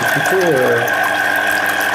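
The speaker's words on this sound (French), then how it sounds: "bec verseur vers le bas, et ça va couler tout doucement, ça n'éclabousse pas" Orange juice trickles gently from the spout of a Silvercrest SZP 85 A1 citrus press, a soft steady liquid flow with a constant motor hum beneath it and brief voice-like tones early on.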